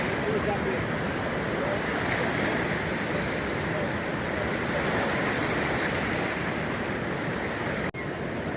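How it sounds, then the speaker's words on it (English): A boat plunges through big river rapids in the Grand Canyon, a steady, loud roar of churning whitewater with wind buffeting the microphone throughout, broken by one brief dropout near the end. "Here's that second boat hitting these big rapids."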